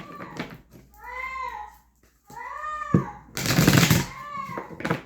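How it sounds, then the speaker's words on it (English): A house cat screams in drawn-out, wailing yowls, three or four long rising-and-falling cries separated by short pauses, fairly close, with a burst of noisy handling sound near the end. "That is my cat screaming in the background."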